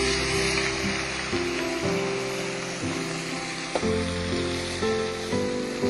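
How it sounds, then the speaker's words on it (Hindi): Onion paste fries in a pan, a continuous soft sizzle with occasional stirring scrapes, heard close and alone without any talk. "फिर प्याज का पेस्ट, इसको भी अच्छी तरह से भूनेंगे।"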